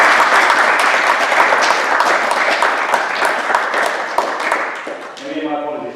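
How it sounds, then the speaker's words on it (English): Dense audience applause fills the room, loud and continuous for several seconds, then thins out as a few scattered claps fade under an emerging voice. "round of applause for"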